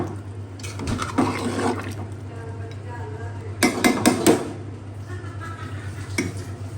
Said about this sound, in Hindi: तो यहाँ पे मैं ऐड करूँगी पानी